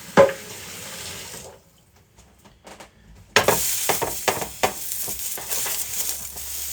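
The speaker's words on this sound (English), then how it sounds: "just going to give this a quick rinse, just to kind of break up the sugar particle on the bottom" Tap water runs into a cooking pan in a kitchen sink to loosen sugar stuck to the bottom, a steady broadband rush after a brief splash and a quiet gap, with clinks of the pan under the stream.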